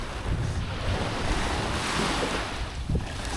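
Surf breaks steadily along the sand spit of Mihama Cape at Heda on the west Izu coast, with wind buffeting the microphone throughout; the wash stays loud and continuous with no voices.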